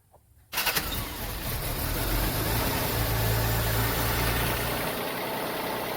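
A Rover 75 car with 136,000 km on it starts up after a quiet moment and settles into a steady, close-up running idle with a continuous low hum.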